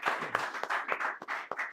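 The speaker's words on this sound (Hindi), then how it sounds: "चाहूँगा सभी बच्चे इस बच्चे के लिए जोरदार ताली बजाएँ" An audience of children claps for a student at a school event: brisk, fairly close clapping with uneven bursts, moderately loud, no speech over it.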